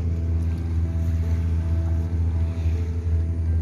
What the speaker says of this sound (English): Let's listen to the sound of the waves.